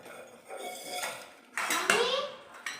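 Dishes, pots and pans clatter and clink as they are washed at home, with metallic knocks and rattles close by and a voice briefly audible.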